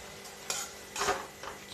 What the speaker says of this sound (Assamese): চিকেন খিনি ভালদৰে ফ্ৰাই হৈ গৈছে